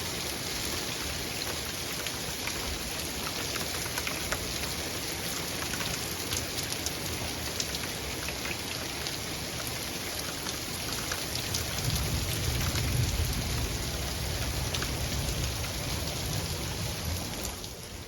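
Heavy, dense rain pours down steadily for the whole stretch, with big drops pattering hard on surfaces and a brief rougher burst of hail near the end; no voices are heard.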